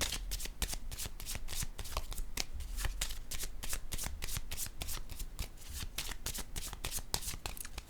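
Tarot cards being handled and shuffled, a rapid dense stream of papery riffling flicks close to the microphone, continuous and fairly quiet, with a voice speaking over it.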